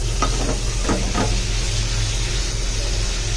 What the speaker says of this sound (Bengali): এই যে খোসাগুলো একটু ভাজা নিতেছি